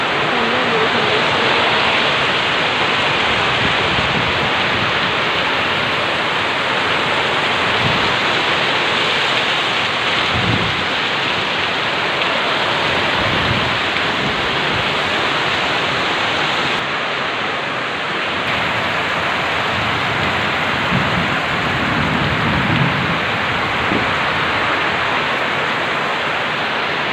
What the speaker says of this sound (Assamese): বাপৰে বহুত বৰষুণ আৰু পুৰা বৰষুণ।